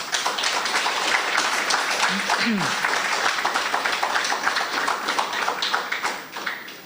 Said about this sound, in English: I want us to give him a resounding round of applause